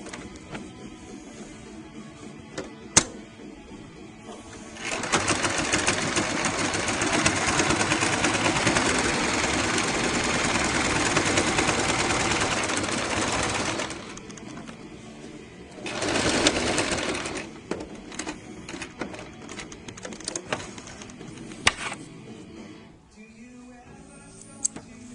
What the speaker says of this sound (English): sew a line down this end of the placket, I think they call it, all the way up to just below the top button